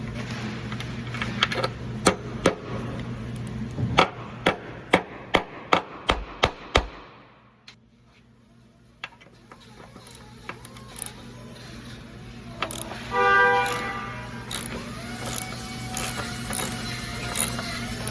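Bolt extractor working on a broken driveshaft hanger bolt: a run of sharp, evenly spaced metallic clicks and ratchet-like snaps, then a pause and quieter scraping and clinking of tools close by.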